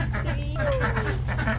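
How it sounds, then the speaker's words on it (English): Newly arrived ducks quack on a homestead, with a few short calls over a steady low outdoor rumble and some voices nearby. "We just got our 3 new ducks."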